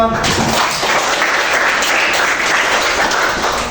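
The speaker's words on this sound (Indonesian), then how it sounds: "Oke, kita kasih aplaus dulu kelompok 3" Classroom audience applauding a presenting discussion group at a teacher training session, a dense, loud burst of clapping that starts abruptly and holds steady.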